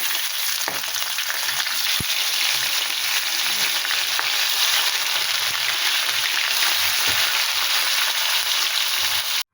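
Pieces of rohu fish coated in turmeric and salt sizzle steadily in hot oil, a dense, constant crackling hiss that runs loud and close without a break.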